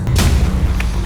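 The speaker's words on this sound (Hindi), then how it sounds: "ये तो गोली चलने की आवाज है।" In a TV crime drama scene, a single loud, sharp gunshot fired through a window, followed by a low rumbling tail over steady background noise.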